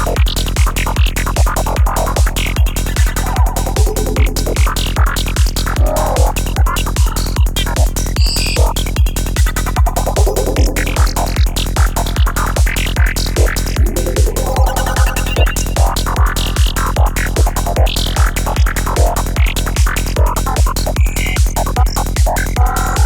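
A full electronic arrangement with several synth leads playing together over a steady, pounding kick beat, dense and loud throughout with shifting melodic lines layered on top.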